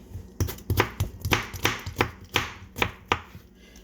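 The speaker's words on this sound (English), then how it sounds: "I cut my tomato in two. The knife has to be sharp." A sharp knife cuts a tomato in two on a board, making about ten crisp, evenly spaced chopping knocks, close and loud, with no speech.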